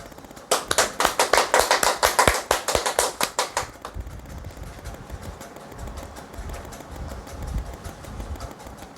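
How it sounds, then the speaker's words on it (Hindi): Audience clapping at a Hindi award ceremony where an honorary title is conferred, with a burst of quick claps that fades after about four seconds into faint room noise and scattered sounds. "जरा ताली वाली बजाओ।"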